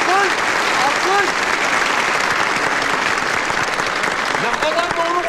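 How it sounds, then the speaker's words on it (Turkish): Crowd applause in an old Turkish comedy film, a dense, steady wash of clapping that continues throughout, with voices calling out over it. "Alkış! Alkış! Alkış!"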